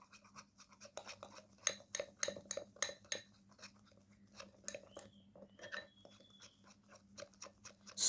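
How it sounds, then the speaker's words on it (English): A spoon mixes a dark coffee teeth-whitening paste in a small container, with quiet, close scraping and clinking in irregular bursts and brief pauses in between. "Now mix well all the ingredients."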